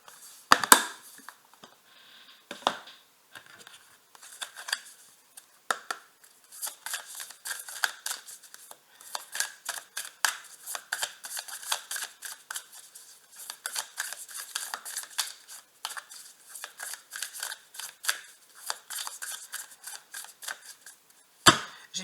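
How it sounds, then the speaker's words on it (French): Oracle cards shuffled by hand in a love-reading session, a long run of crisp papery riffles and flicks, close and fairly quiet, with sharp snaps near the start and end and no voices. "J'ai bien mélangé les cartes"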